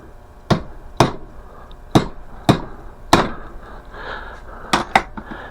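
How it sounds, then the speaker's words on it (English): A heavy hammer strikes a metal punch in sharp, loud blows, about eight hits at uneven intervals with short ringing decays between them. "you want to get the biggest hammer you could find"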